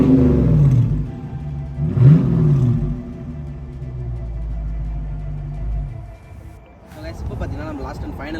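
A 2019 Dodge car engine revs up and down in a few rising and falling pulls, loud and close, settling into a rumbling idle before a muffled clatter at the end.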